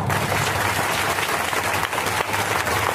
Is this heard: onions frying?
no